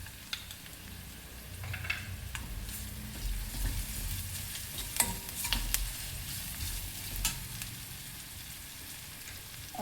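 Asafoetida and ginger-garlic paste fry in a pan with a continuous bright sizzle and occasional scrapes and taps of a stirring spoon, heard up close at moderate volume.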